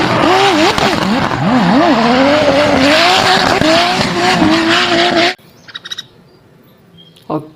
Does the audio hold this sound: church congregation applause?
no